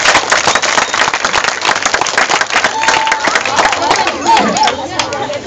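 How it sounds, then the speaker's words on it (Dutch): A crowd at a charity cheque presentation for a running event applauds with close, distinct hand claps that fade toward the end, while some voices chatter underneath. "Applaus voor jezelf."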